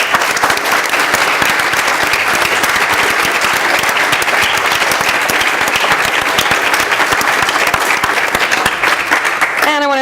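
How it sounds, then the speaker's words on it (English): Sustained audience applause after a panel discussion, dense and loud clapping from a large crowd that continues steadily throughout. "So one more round of applause, and thank you all for coming."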